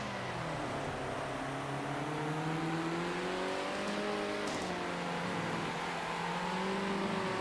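Racing cars in Circuit Superstars drone along at a steady, moderate level, engine pitches rising and falling as they accelerate through the lap among slower lapped traffic, with no voices.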